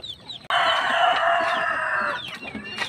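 Chickens on a farm, a hen brooding with chicks, a loud rooster crow lasting nearly two seconds that stands out over soft clucking and scattered chirps, close by, with no voices.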